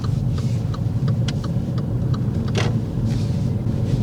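A car on a driving test rolls slowly into a car park, its steady mid-pitched engine hum continuous and close, with small clicks and knocks from inside the cabin.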